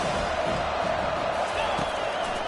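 A large crowd cheers in a football video game during a third-down play, a steady broad roar that holds at the same level throughout with no pauses.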